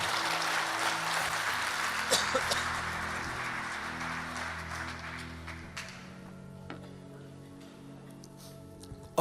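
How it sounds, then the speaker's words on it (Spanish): Congregational applause for the Lord during a Spanish-language church service, a dense wash of clapping over sustained organ-like tones that thins out and fades after about six seconds, leaving the held tones and scattered taps. "Dale el mejor aplauso al Señor"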